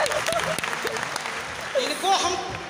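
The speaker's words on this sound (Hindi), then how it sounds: "जोरदार ताली" Audience applause fills a stage event hall, steady clapping throughout with a loud voice speaking over it.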